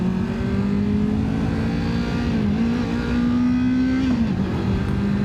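A 2025 Kawasaki Ninja 500 motorcycle being ridden: a steady, loud engine drone with wind noise and pitch that dips and rises as it shifts gears, heard alone with no talk.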